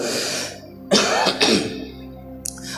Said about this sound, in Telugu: నాకు దగ్గు ఎక్కువ ఉంది, ఏమనుకోకండి